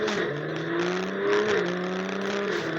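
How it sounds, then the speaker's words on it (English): BMW M340i with an aftermarket dual-valve exhaust replacing the stock single-valve backbox, tuned with XHP Stage 2, giving a steady low-toned engine drone that swells slightly mid-clip, close and loud with no talking. "It's a dual valve system, whereas the stock backbox is a single valve system, so that's also really different, and it's just a lower tone."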